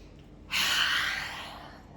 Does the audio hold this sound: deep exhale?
yes